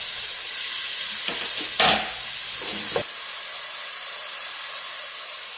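Sliced bell pepper and onion hit a hot pan and start frying, a loud sizzling hiss with a few stirring bursts that settles into a steadier, quieter sizzle.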